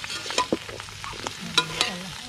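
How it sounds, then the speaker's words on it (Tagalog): Ginger sautéed in a pan, with spatula scraping and stirring clicks over a steady soft sizzle, close and brief. "Gisa-gisa lang yan, napakadali niyan."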